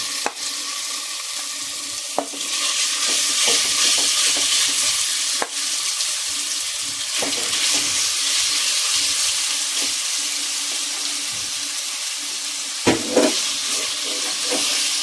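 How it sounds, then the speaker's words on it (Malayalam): Marinated chicken pieces frying in hot coconut oil make a broad, continuous sizzle close up, with a few sharp clinks of a utensil against the pan over about fifteen seconds and no voices. "അപ്പോൾ നമ്മൾ അതിലേക്ക് ചേർത്ത് കൊടുക്കുന്നത് നമ്മൾ നേരത്തെ പുരട്ടി വെച്ച് ആ ചിക്കൻ്റെ പീസാണ്"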